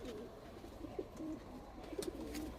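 Pigeons in a loft, repeated soft throaty coos overlapping in a low murmuring rhythm, faint and close, with light rustling and no talk.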